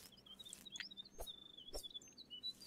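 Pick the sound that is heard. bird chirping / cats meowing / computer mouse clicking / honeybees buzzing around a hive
bird chirping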